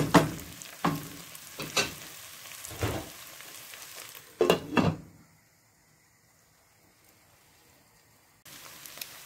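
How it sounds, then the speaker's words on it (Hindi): Minced meat frying under a lid in a pan, with several short loud sizzling bursts and stirring scrapes early on, then a quiet covered simmer before the sizzle returns near the end. "अब इसको हम अच्छे से दो मिनट और फ्राई करेंगे कवर करके।"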